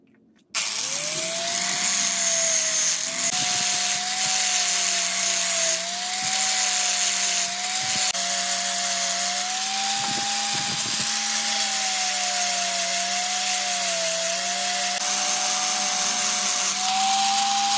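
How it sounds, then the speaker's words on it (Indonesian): A power sander with 1000-grit velcro sandpaper whines steadily with a high tonal hum over gritty, scratchy abrasion on a 7Cr17MoV gyuto chef knife, running continuously and close up without any talking. "proses pengamplasan menggunakan grid 1000 sama menggunakan amplas tempel atau amplas velcro"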